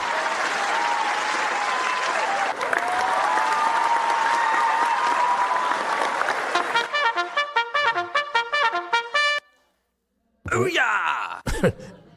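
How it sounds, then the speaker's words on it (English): An audience at an evening Chan meditation talk applauds in a loud, sustained burst for about seven seconds, then it breaks off into choppy, uneven sounds and a short silence. "That deserves an applause, I feel"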